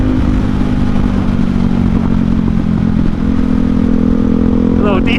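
Ducati Hypermotard motorcycle fitted with an Austin Racing exhaust, riding at a steady loud engine drone with strong wind buffeting, a brief rise in revs near the end.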